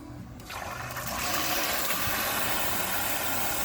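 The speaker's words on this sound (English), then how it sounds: "We can do this all day long because the water keeps coming." Water gushes steadily from a farm pump outlet, a loud broadband rushing that swells in after a brief quieter start and holds strong and continuous, with no talk.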